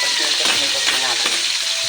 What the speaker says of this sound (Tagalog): Tapos likos-likos na natin.